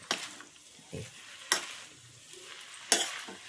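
A spoon stirring Telangana-style nalla fry, a spiced meat mixture, in a hot pan, with soft sizzling and three or four sharp scraping strokes spaced a second or so apart, close and alone.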